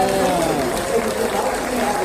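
Applause and crowd noise rise from the audience at a live magic show, a dense wash of clapping with voices mixed in throughout the short burst.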